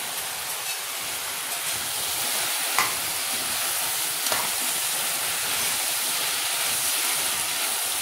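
Mixed vegetable curry sizzles and fries in a pan while garam masala and spices are stirred in, giving a steady close hiss with a couple of brief scraping clicks from the stirring and no talking.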